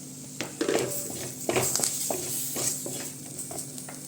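Tomatoes stirred in a pan of coconut oil for a fish curry, with scraping spoon strokes and light clinks against the metal pan over a soft, steady sizzle.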